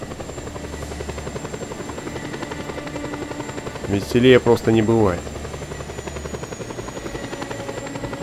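A helicopter in the video game Just Cause 2 drones with a steady, close rotor hum, and someone speaks briefly over it partway through.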